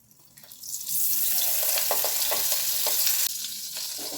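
Onions stew in hot oil in a pan, a steady loud sizzle that swells in within the first second and holds, with a few soft stirring clicks and a slight drop near the end.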